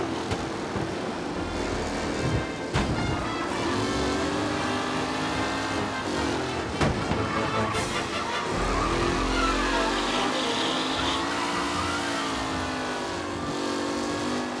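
Race cars in the Mafia video game roaring past during a race, engines revving and whining continuously in a loud, layered drone that swells and fades as cars accelerate, with no talking.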